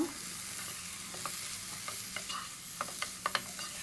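Masala with turmeric and garam masala, later joined by tomato, stirred and sautéed in a pan for restaurant-style chicken curry: a steady soft sizzle with scattered scraping clicks of the spoon, closer and sharper toward the end, with no talking.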